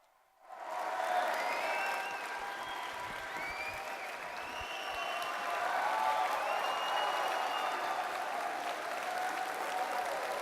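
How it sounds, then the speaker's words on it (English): Applause for a keynote speaker at Politicon 2018 bursts in after a brief quiet and holds as a full, sustained roar of clapping from a large audience, with whistles and cheers rising above it. "A round of applause for Ben Shapiro."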